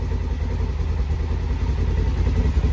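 Polaris General XP fitted with a turbo kit, its engine holding a loud, steady rumbling rev near 6,000 RPM, close and continuous throughout.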